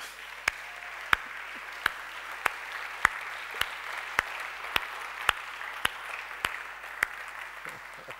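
A church congregation at a seminar applauds steadily in a large hall. Broad, continuous clapping carries a regular rhythm of sharp, evenly spaced claps, like a crowd clapping along in time.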